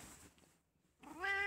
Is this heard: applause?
no